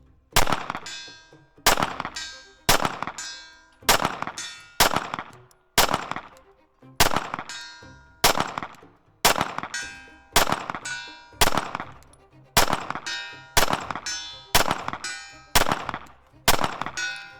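A compact carry pistol fires at steel targets 100 yards away outdoors, each loud shot followed by a ringing metallic clang, in a steady series of about eighteen evenly spaced shots with decaying echoes and no talking.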